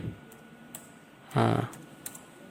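A few sparse clicks come from someone typing a command on a computer keyboard, heard up close, with a short stretch of talk partway through.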